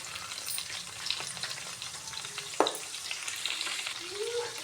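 Green chilies, cashews, carrot pieces, mint, bay leaf and coriander fry in oil for bagara rice, giving a quiet, continuous sizzle with scattered stirring clicks and one sharper knock of a spoon against the pan.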